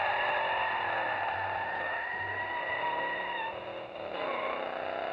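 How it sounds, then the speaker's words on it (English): A toy truck's electronic engine sound effect plays as a steady, buzzing whir with sustained whining tones, briefly dipping and shifting pitch near the end, with no voices over it. "That's how this truck used to sound."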